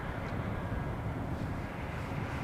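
Boeing 787 Dreamliner arriving at Amsterdam Schiphol airport on runway 18R, a steady distant low jet engine rumble with wind, no talking.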